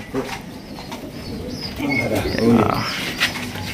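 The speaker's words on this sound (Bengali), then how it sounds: "দেখেন এখানে আরো এক জোড়া গড়া কবুতর।" Pigeons coo in low, throaty bursts at close range on a farm, mixed with faint chirps and a brief flutter while someone talks over them.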